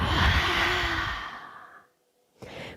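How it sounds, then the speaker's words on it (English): A long, breathy exhale through the mouth during a beginner aerial yoga session fades out over about two seconds, followed by a short pause and a second softer breath starting at the end; close and clear with no talking. "Inhale through the nose. Exhale by the mouth."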